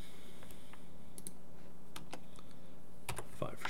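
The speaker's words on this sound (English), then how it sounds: "hit Q on our keyboard" Computer keyboard keys pressed while modeling in Maya 2018, sharp scattered clicks in small bursts, close and fairly quiet over faint background hum.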